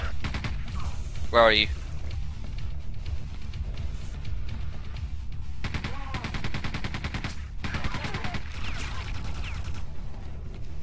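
Rapid bursts of machine gun fire from the Quake II shooter, a loud rattling flurry around the middle and scattered volleys later, with game noise throughout and someone talking over it.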